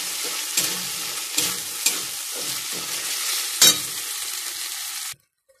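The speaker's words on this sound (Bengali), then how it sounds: "আদা রসুনের পেস্টটা দিয়ে দিলাম।" Ginger-garlic paste frying in a pan for a chicken curry, a continuous hissing sizzle broken by several scraping stirs of a spatula, then cutting off abruptly into near silence at the end.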